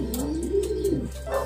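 A pigeon coos close by in a single soft, rolling call of rising and falling tone, with faint chirps and background noise around it.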